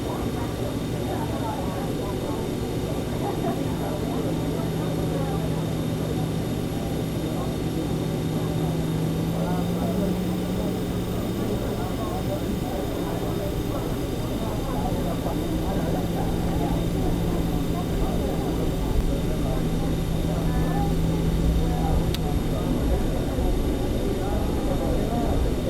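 Steady whining turbofan drone of a Just Flight RJ100QT airliner taxiing in Microsoft Flight Simulator 2024, continuous and even throughout, with a person talking over the engine hum.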